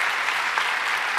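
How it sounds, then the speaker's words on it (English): Brief burst of audience applause at the fintech_devcon 2022 conference, a continuous, even patter of many hands at a steady volume, heard alone. "Y'all, one more round of applause"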